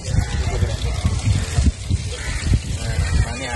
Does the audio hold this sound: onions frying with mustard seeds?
no